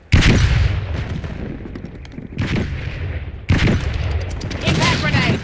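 Loud, close gunshots and booming blasts, including a flashbang grenade, burst out in three heavy clusters with echoing tails during a firefight in Robocop Rogue City.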